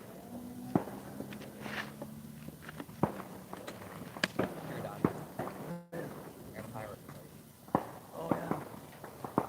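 Scattered fireworks pop and crackle in sharp, irregular bursts at varying distances on a night outdoors by the water while carp fishing, set against faint background noise and occasional footsteps.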